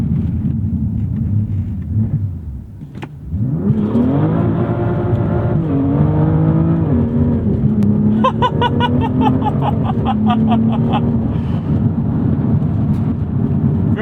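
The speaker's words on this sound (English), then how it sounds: "I literally just mashed on the accelerator and that's what it gave us with DSC off." A BMW M2 F87 launches hard with stability control off: the engine drops to a low idle, then roars up through the revs in a long rising pull, loud and close, with crackles near the top and steady drive to the end.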